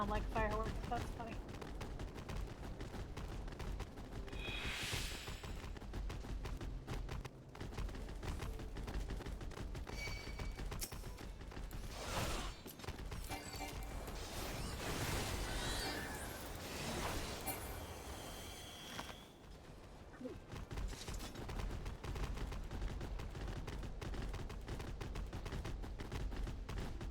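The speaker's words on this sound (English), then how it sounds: "There's fireworks going on." Rapid crackling bursts of fireworks go off in Final Fantasy XIV, dense and continuous like a fusillade throughout, with people talking faintly underneath.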